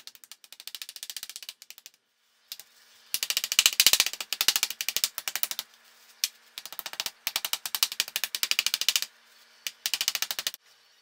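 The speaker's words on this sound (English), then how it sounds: "with a meat mallet, pound out the lamb leg as flat as possible" A meat mallet pounds a leg of lamb flat beneath a sheet of plastic, landing as rapid bursts of sharp, close thuds in clustered rhythmic runs, with brief pauses between the bursts.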